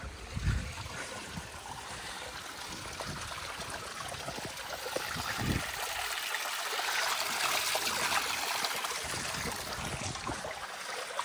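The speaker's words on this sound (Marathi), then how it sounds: "इकडे कुंड आहे पाण्याचं." Water trickles steadily into a temple's stone water tank, a continuous soft hiss and gurgle with no voices, holding even throughout.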